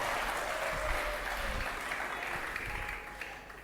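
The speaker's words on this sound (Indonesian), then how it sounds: "orang muda kasih tepuk tangan bagi dia" An audience at a church sermon gives sustained, dense applause for a young person. The clapping is fairly distant and fades slightly toward the end.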